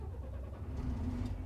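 A Liebherr crane's diesel engine turns over and fires up close by, a steady low rumble that thickens and rises slightly in pitch as it settles into idle, with no talk over it.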